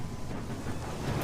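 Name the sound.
marauder ships approaching in the video game Sunless Skies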